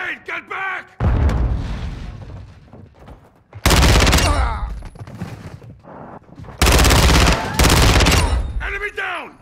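Heavy gunfire in a video game comes in loud, sustained bursts of rapid shots with booming impacts, separated by brief lulls, with voices speaking between volleys.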